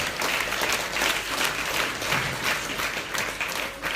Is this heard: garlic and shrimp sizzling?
no